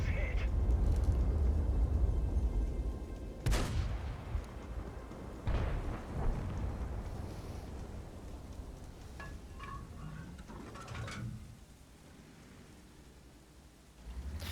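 Heavy gunfire in World of Tanks from a Grille 15 tank destroyer: a loud boom opens, another shot comes a couple of seconds later, and both sit over a steady low rumble of battle noise with scattered distant impacts.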